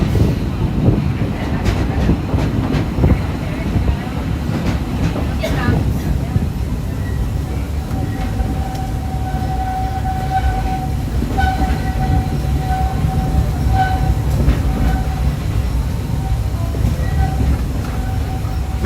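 A mine-train roller coaster at Magic Kingdom, Disney World, clatters and rumbles close by, with rhythmic metallic rattling and a sustained whistle-like tone in the middle, and voices faintly underneath.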